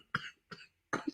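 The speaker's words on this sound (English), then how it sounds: "We'll start coughing." Three separate coughs, close and fairly loud, spaced unevenly with short silences between them.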